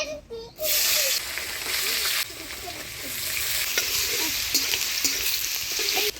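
Carrots and other vegetables for fried rice hit a hot pan, setting off a loud, steady frying sizzle that carries on close by while someone talks over it.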